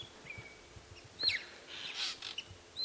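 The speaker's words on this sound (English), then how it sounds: "It is that drongo. Making such a racket." A wild drongo gives its harsh, scratchy call mixed with a few sharp whistled chirps, fairly close, over a quiet outdoor safari background.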